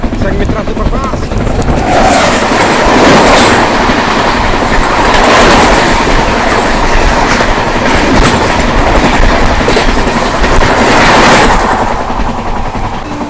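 The Sanghamitra Superfast Express rolls along the rails, heard from inside a carriage as a loud continuous rumble with repeated clickety-clack wheel beats rising and falling throughout.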